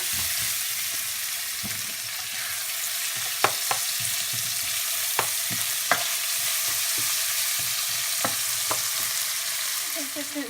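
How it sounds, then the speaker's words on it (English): Onions frying in a pan for minced meat with green chillies give a steady loud sizzle up close, broken by scattered sharp pops and spatters, with no talk. "we'll fry the onions"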